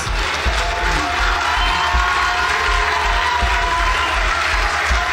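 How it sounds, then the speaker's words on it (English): An audience in a hall applauds and cheers continuously, with dense clapping and scattered whoops, steady and loud throughout. "What are you cheering for?"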